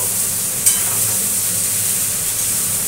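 Ridge gourd pieces hit a pan of hot oil and fried onions, giving a steady close sizzle with a brief sharp burst near the start and no voices.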